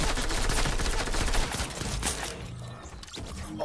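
Gunfire in a shooting video game, a dense burst of rapid loud shots for the first couple of seconds, then thinning out to scattered quieter reports.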